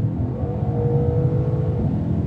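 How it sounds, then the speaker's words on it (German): Mercedes-AMG C 63 S (375 kW, 510 PS) under kickdown on the Autobahn, a steady loud engine drone with a rising tone and heavy road and wind roar filling the cabin. "Dieser Kickdown ist krass."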